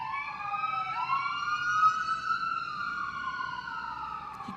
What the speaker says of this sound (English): And here we have a siren,